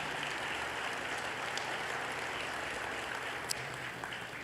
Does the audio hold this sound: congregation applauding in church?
yes